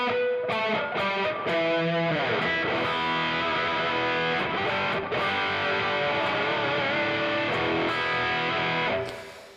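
Heavily distorted electric guitar drenched in reverb and delay through a Helix Stomp multi-effects pedal, playing dense sustained chords and riffs at steady loud level for the whole passage, with no voices.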